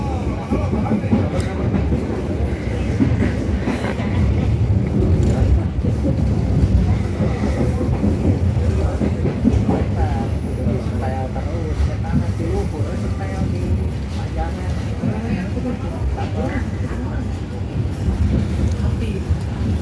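Train at Cikampek railway station in Indonesia, a steady loud rumble with rhythmic clatter throughout, under a voice talking close by.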